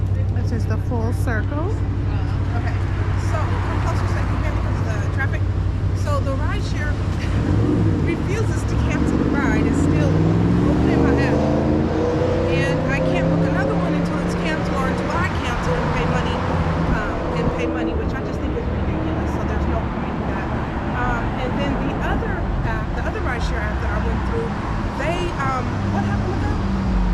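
Street traffic rushes past a busy San Francisco bus stop, with a steady roadway roar and a louder vehicle sweeping by midway, while people talk close over the noise throughout.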